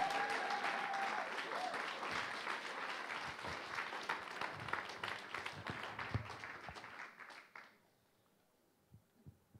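A church congregation applauds and cheers in worship during a Pentecostal-style service, dense sustained clapping that fades out toward the end, leaving faint scattered sounds.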